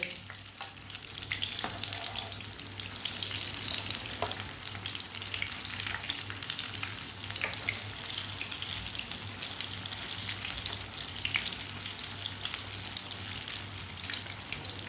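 A winter breakfast flatbread cooks in a hot pan, giving a constant soft sizzle and frying hiss with faint crackles and a low steady hum beneath, close and unbroken, no voices.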